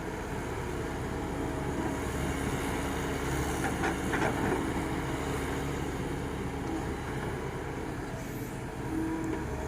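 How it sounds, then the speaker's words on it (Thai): A Kobelco SK120-1 excavator's diesel engine hums at a steady moderate revving, with occasional metallic clanks over the constant engine drone. "เร่งเครื่องประมาณกลาง ๆ ครับ ไม่ได้เร่งเร็วเท่าไหร่นะ"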